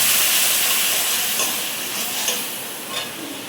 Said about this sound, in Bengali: মশলাটা ভাজা ভাজা হবে